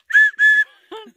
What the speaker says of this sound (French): Avec notre sifflet, faire sûr que les chevreuils ou les orignales se tenaient loin de nous autres.